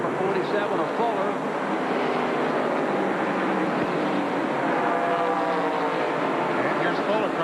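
Race cars roaring at speed around the track during a 1995 NASCAR race, a dense and constant engine drone with rising and falling whines as the cars jostle to pass.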